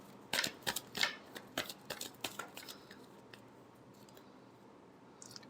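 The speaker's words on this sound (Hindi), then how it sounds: "Last shuffle." Tarot cards are given a final shuffle, a quick run of crisp close flicks and taps that fades into near quiet with a faint rustle at the end.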